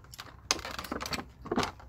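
Scissors cut into toy packaging with a few quick, crisp snipping clicks in short bursts, close and fairly quiet, with no voices.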